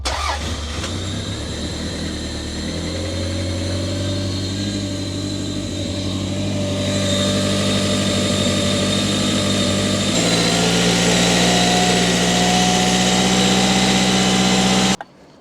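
A 1997 Toyota Celica with a 5S-FE engine cranks, fires and runs, its steady mid-pitched engine drone building slightly in loudness before the sound cuts off sharply at the end.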